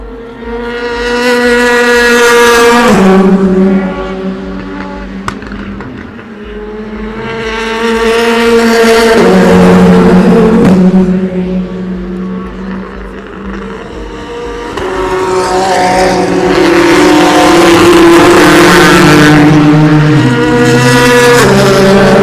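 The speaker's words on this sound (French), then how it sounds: "Il y a l'Audi qui est le 5ème qui vient de passer." Race cars, an Audi among them, scream past one after another at the Le Mans 24 Hours, each engine whine rising loudly and then falling away across the track.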